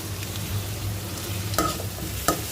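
Onion fries in an old iron wok with a soft steady sizzle, and two sharp scrapes of a spatula stirring against the metal stand out near the end.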